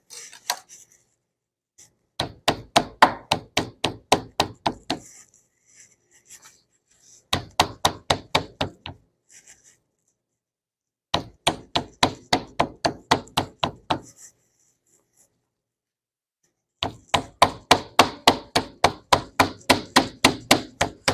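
A knife chops rapidly on a board while food is trimmed for a Southern home-cooked dish, coming in four quick bursts of crisp, evenly spaced cuts separated by silent pauses.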